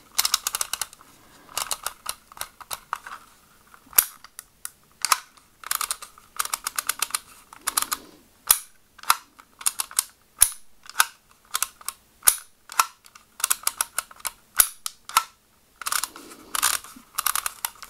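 Dymo label maker embossing letters onto tape, a quick series of sharp, loud plastic clicks and snaps in irregular bursts, close up and without talk.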